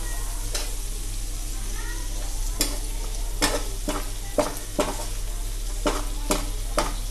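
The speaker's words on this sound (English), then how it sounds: "Now saute the onions well." Onions sauté in a pan for a garlic mutton roast, a steady sizzle running throughout with sharp scraping stirs of a spatula at irregular intervals, close and even.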